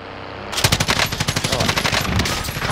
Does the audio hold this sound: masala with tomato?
no